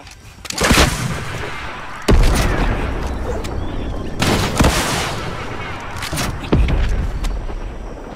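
Loud bursts of gunfire and booming blasts from an RPG rocket launcher in the Fortnite video game, several heavy explosions spaced a second or two apart with rapid crackling fire between them.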